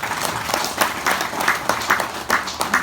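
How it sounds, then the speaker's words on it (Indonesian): An audience applauds at a regional official's speech in a cultural tourism village, dense, steady clapping from a crowd that stays loud and continuous throughout. "Kita berikan aplaus."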